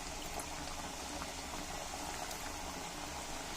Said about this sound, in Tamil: இப்போ எண்ணெய் காஞ்சிடுச்சு, பொரிச்சு எடுத்துக்கலாம்.